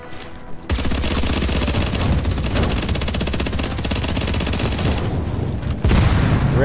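The Bullfrog gun in a video game firing rapidly, a fast, steady stream of sharp shots for several seconds, briefly cutting out before resuming, loud and close with no talk over it.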